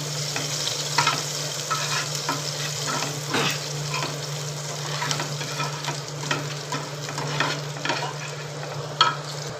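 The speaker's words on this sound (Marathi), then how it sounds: "तेल तापू आपण त्यात लसूण टाकू लसूण चांगली परतून देऊ" Garlic fries in a little hot oil for Malvani-style okra, a continuous close sizzle with scattered pops and the scrape of stirring, no voices.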